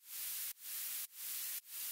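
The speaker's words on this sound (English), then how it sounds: "Some sidechained white noise for energy." A bright sidechained white-noise synth hiss swells up and cuts off in a steady pumping rhythm, four rising surges in two seconds, alone and fairly quiet, in an electronic music production.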